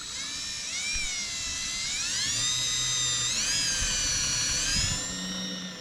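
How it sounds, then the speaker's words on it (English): A drill bores a hole through the metal frame of a food trailer, giving a loud, sustained high whine that rises and dips in pitch as the bit works, with no talking. "After drilling a hole through the frame"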